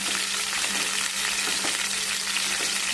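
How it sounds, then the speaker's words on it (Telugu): Chicken liver fries in hot oil with a loud, dense, continuous sizzle and crackle, close up and with no talking. "ఆయిల్ హీట్ అయిన తర్వాత ఇవి వేసుకోవాలండి ఫ్రై చేసుకోవటానికి"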